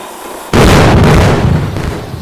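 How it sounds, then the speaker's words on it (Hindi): An explosion goes off in the video game Indian Bike Driving 3D during a zombie fight: a sudden loud blast, followed by a heavy rumbling boom that slowly fades. "पूरा धमाका हो रहा है नीचे,"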